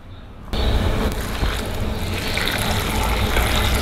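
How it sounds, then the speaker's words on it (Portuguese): Seasoned water with dissolved stock poured from a container over baked nest pasta with requeijão in an oven dish, a steady close gushing splash that starts abruptly and continues throughout. "agora eu vou pegar aquele caldo que tava dissolvendo naquele litro de água e vou jogar aqui por cima"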